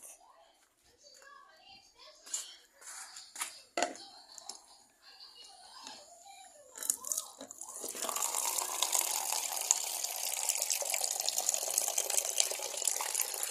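Tap water running steadily outdoors, a broadband hiss that starts partway through and continues loud to the end, after a stretch of quiet speech and small knocks and drips.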